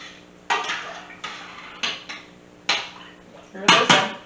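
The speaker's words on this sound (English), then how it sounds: "Now I'm going to stir it a little bit." Corned beef and cabbage being stirred in a pot, with a series of loud utensil clanks and scrapes against the metal, about six separate knocks, close and with no talking.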